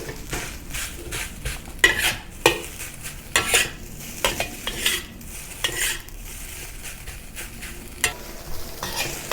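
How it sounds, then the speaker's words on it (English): Rice stir-fried in a wok for Thai basil fried rice, a metal wok spatula scraping and tapping in quick irregular strokes over a steady close sizzle, with no talking. "use the wok spatula to break up the lumps"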